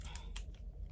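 Scissors snip through gift wrapping paper in a couple of quick, crisp cuts, close and fairly quiet over a low background hum.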